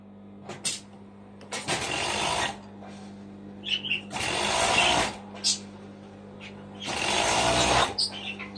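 A sewing machine stitches the side seam of a garment sleeve, running in three loud whirring bursts of about a second each, separated by quieter pauses with small clicks.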